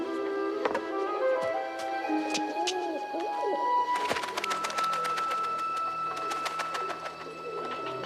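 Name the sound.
pigeons cooing in a cage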